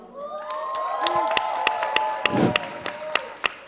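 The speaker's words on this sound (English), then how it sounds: "With a resounding round of applause, please give it up for Fura." A plenary session crowd breaks into applause and cheering, with whoops and sharp claps rising over a sustained burst of clapping that carries through to the end.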